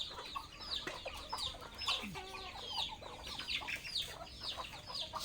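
Many backyard chickens cluck and chatter nearby in a busy, overlapping flock, with steady calls throughout and no talking.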